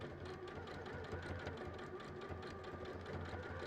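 A sewing machine stitches raw edge applique with matching thread in a steady, rapid mechanical hum, continuous and fairly quiet throughout with no pauses.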